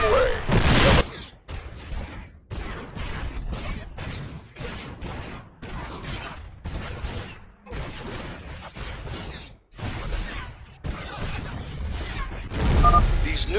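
Siege tanks in StarCraft 2 fire repeated heavy cannon shots, a steady run of booming blasts and explosions spread across the stretch with battle noise throughout.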